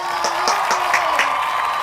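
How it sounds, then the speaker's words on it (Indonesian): A classroom of children applauds a pupil named Putri, a short burst of lively clapping with a few distinct claps standing out over a steady wash. "Kasih tepuk tangan dulu buat Putri."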